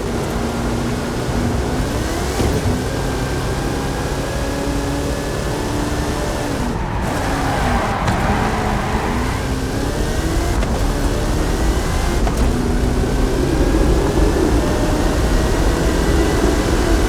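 A Forza Horizon 5 Hot Wheels car with a 540 cubic inch Chevrolet engine and 66 inch Terra tyres drones loudly and steadily throughout, its engine note rising and falling with shifts, with no talking.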